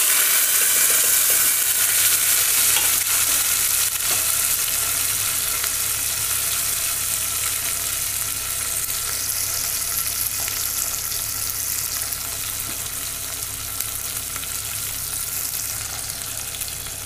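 Small onions, garlic and curry leaves sizzle in hot oil for Thirunelveli-style sundavathal kuzhambu, giving a loud, steady frying hiss with occasional stirring scrapes and no talk.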